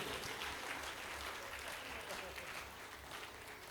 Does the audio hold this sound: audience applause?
yes